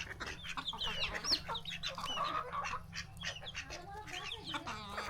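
A young rooster and hens cluck and call in a village yard, with overlapping calls and honks from nearby fowl continuing throughout at moderate loudness.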